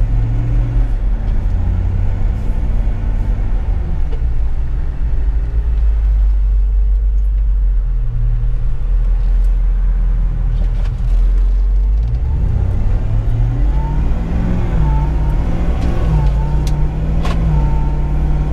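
A Jeep Wrangler JK with a 700-horsepower LT4 V8 idles and runs steadily at about 500 RPM with a deep, continuous low rumble, close by, with a faint whine rising briefly in the latter half.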